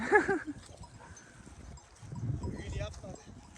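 A sheep bleats clearly near the start, followed by faint bleats and shuffling animal noise in the background.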